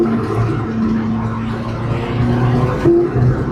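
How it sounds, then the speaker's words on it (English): A Saab 900 Turbo SPG engine runs with its APC safeguard bypassed, a steady rumbling drone with a faint rise and a brief whistle near the end, close and continuous without speech. "the turbo is spooling up nicely"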